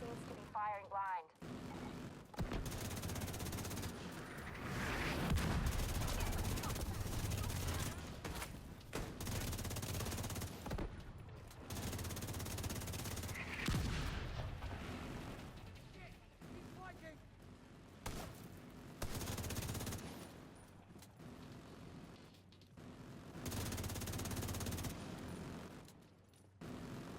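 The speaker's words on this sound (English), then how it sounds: "The autocannon seems to be firing blind" An autocannon fires in the shooter game Division 2, long bursts of heavy rapid gunfire and booming blasts pounding across the scene, broken by short pauses, with battle noise throughout.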